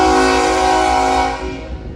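A BNSF mixed freight train passes Central Avenue in Metairie, a loud sustained rumble of rolling cars with a steady tonal horn-like drone, close by and alone, fading slightly toward the end.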